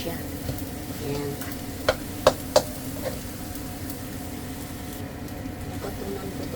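Salted egg sautés with bitter gourd in a pan, a steady low sizzle and stirring with a few sharp utensil clicks against the pan; no voices.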